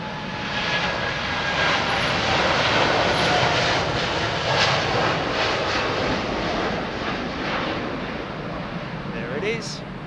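A Boeing Dreamliner jet airliner flies low past at Heathrow, its broad roaring rush loud and steady throughout and slowly fading, with a faint voice near the end.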